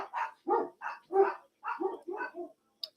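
Pet dogs barking indoors during a storm: about nine sharp, nervous barks in quick irregular succession, close and fairly loud, with a brief high yip at the end.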